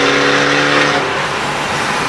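A car accelerates hard, its engine roaring loud and steady with a rising harmonic whine in the first second before settling into a broad rushing roar, no voices.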